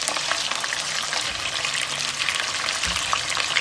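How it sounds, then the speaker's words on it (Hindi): Pieces of chicken for chicken saag fry in hot oil, giving a steady, close, dense sizzle with small pops and crackles throughout, and no voices. "इस तरह ना बहुत ही अच्छा फ्लेवर भी आता है और अंदर से इतना टेस्टी होता है ना चिकन हमारा ऑयल में इस तरह फ्राई करने से"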